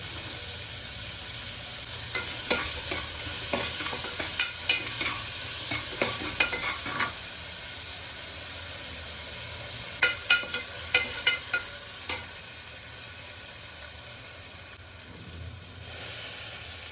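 Onions sauté with salt in a pan for a quail curry, hissing in a steady sizzle while a spoon scrapes and stirs in clusters of sharp clicks, close and alone.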